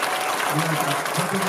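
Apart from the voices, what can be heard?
audience applause at a ceremony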